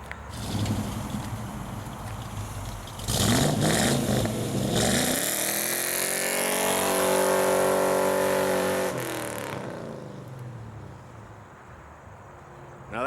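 A 1995 Ford Mustang Boss Shinoda engine idles, then revs hard, climbing to a sustained loud roar for several seconds before dropping back to a rumbling idle, close by with no talk.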